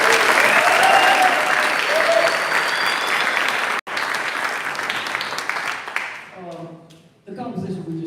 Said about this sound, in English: a wonderful round of applause